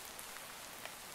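Steady, soft rain in the video game Minecraft, a faint even patter of drops with no other sounds over it.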